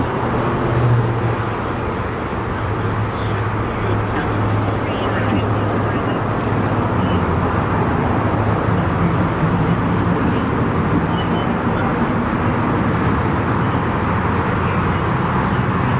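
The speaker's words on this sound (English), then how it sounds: "Good to see traffic out and about." Steady road traffic and vehicles rolling past on a street during a police response to an assault, a continuous broadband rumble with low engine hum, fairly loud and unbroken throughout.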